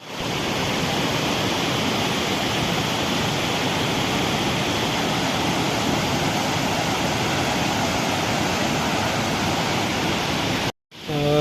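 Devkund waterfall's rushing water roars loud and constant as a dense, unbroken wash of sound up close, cutting off abruptly just before the end.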